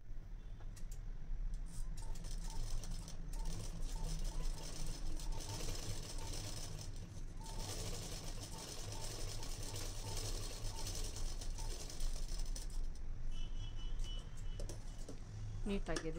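Sewing machine winding thread onto a bobbin: a steady, fast mechanical whirring hum that runs continuously, with someone speaking over it.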